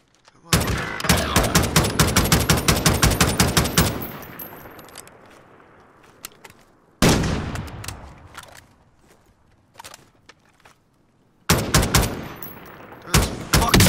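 Close, loud bursts of automatic gunfire come from a Call of Duty: Modern Warfare battle royale match. Rapid strings of shots arrive in three separate volleys, with short echoing gaps and scattered single shots between them.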